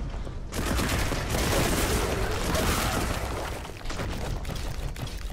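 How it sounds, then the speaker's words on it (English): Heavy bursts of gunfire in the video game Warhammer 40,000: Boltgun, a thick, continuous barrage with booming impacts that dips briefly before resuming, loud and unbroken by speech. "Who else is shooting at me?"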